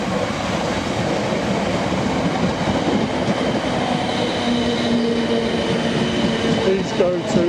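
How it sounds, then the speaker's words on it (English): A South Western passenger train rolls steadily through a suburban railway station, a loud, continuous rumble of wheels and carriages with a faint squeal near the end. "Oh, there comes the South Western train."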